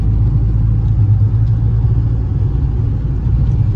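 A Volkswagen Gol with a 1.6 AP engine revving close by, a loud, deep, continuous rumble that stays strong and steady with slight swells, and no talk.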